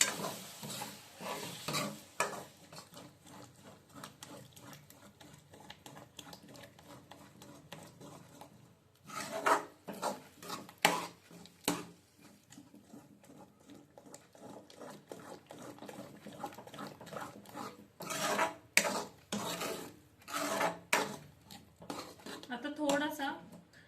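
Five eggs are mixed into fried spices over a low gas flame for egg bhurji, with scraping and stirring against the pan coming in uneven bursts and quiet gaps, fairly soft and close.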